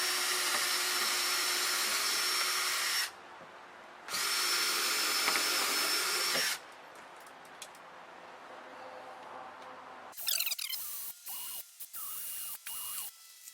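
A cordless power drill fitted with a T25 bit drives 2.5-inch star-head deck screws into deck boards during a repair, giving two steady whirring runs with quiet gaps between them, then a stretch of clicking and rattling handling noises.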